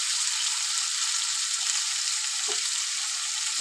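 Potatoes and plantain fry in a pan with a steady, even hiss of hot oil, close and continuous, with a faint soft clunk now and then.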